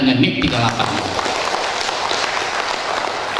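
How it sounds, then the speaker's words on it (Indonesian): Applause from an audience at a reunion gathering of former BKKBN employees from Bengkalis and Dumai, a dense steady patter filling the room after a brief spoken word at the start. "mari kita tepuk tangan dengan NIP 38"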